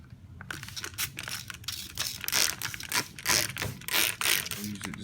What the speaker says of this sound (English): I just use a little water bottle and just spray inside